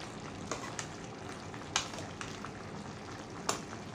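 Chicken liver and gizzard frying in a pan, with a steady close sizzle broken by occasional scraping stirs and clinks from a utensil against the pan.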